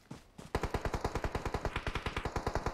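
Rapid automatic gunfire in an online multiplayer shooter, a steady burst of about twenty evenly spaced, punchy shots, loud and close, heard without talk.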